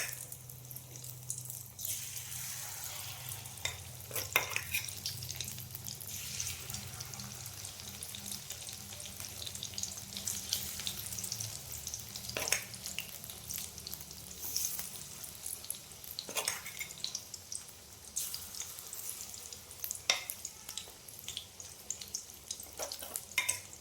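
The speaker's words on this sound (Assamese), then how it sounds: "তেল গৰম হোৱাৰ পিছত অলপ বৰ ভাজি আছোঁ মই" Banana flower pakoras deep frying in hot oil, a continuous crackling sizzle that swells and eases over a long stretch, with occasional sharp clinks of a utensil and no talking.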